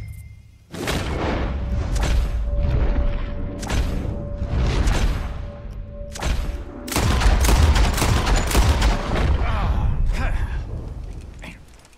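Gunfire in Red Dead Redemption II, repeated loud bursts of shots in several volleys with echoing booms and short pauses between, near and intense, with voices speaking at times over the shooting.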